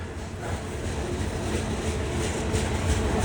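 CP and KCS freight locomotives with a trailing KCS distributed power unit pass the Boone Avenue crossing in New Hope, Minnesota. A steady, close rumbling roar of rail cars rolls by, with faint clatter beneath it.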